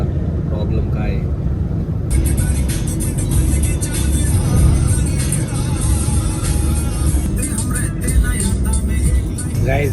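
Dense road traffic in a jam near Chakan, with a steady rumble of car and bus engines and occasional revving close by, running continuously under a person talking.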